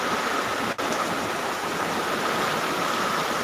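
Heavy rain pours down in a constant, loud hiss, dense and unbroken, with a brief dip near the start.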